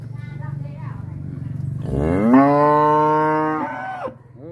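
A Marlboro-colored cow on a farm lets out one long, loud mooing bellow, rising then holding a rich harmonic tone for nearly two seconds before cutting off, over a low rumbling background.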